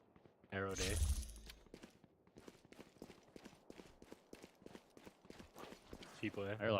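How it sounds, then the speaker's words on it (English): Rapid footsteps patter in the shooter game Valorant, a dense rhythmic run of light steps with a louder burst of game sounds near the start and end. "I heard a lot of footsteps there."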